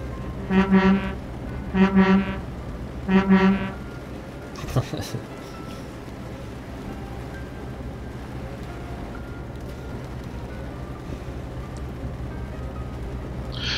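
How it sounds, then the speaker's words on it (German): A truck horn in Euro Truck Simulator 2 blares three times in even succession, loud and close, followed by a lingering engine drone with a brief clatter and no further honks. "Jetzt dreimal hupen, bitte."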